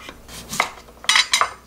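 A knife slicing radish on a cutting board, a few sharp, quick taps and scrapes in an otherwise quiet kitchen.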